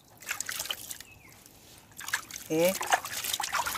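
Water trickling and splashing gently over orchid plants and their leaves during sparing watering, soft and close, with a speaking voice briefly over it.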